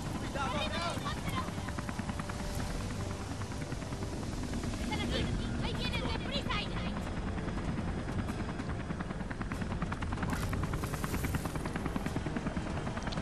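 Helicopter in the Beyond Two Souls video game, a steady rotor drone holding throughout at moderate level while someone talks over it.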